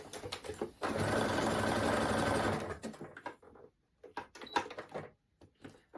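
A sewing machine runs steadily for about two seconds stitching a T-shirt side seam with stripe matching, then stops, followed by soft clicks and handling noises of fabric and pins.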